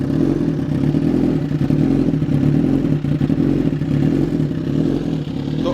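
A 1-litre Suzuki GSX-R 1000 superbike engine idles with a steady, low, loud, even throb and mechanical clatter close to the listener, with no voices.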